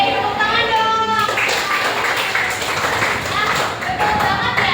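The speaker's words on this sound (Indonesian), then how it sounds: "tepuk tangan dong" Schoolchildren in a Pancasila classroom clap their hands briefly while a teacher and children talk loudly over the tapping.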